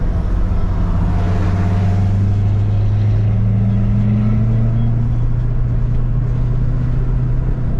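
A blue Chevrolet Corvette C7 drives past, its engine a loud, continuous low drone whose pitch climbs steadily as it approaches, with a rough rumble underneath and no talking.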